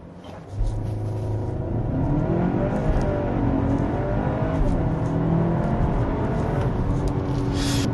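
A BMW X1 M35i with a dual-clutch gearbox makes a launch start with its active sound turned off, the engine roaring up loud and close, rising through revs with a brief dip at the shift and a steady strain after.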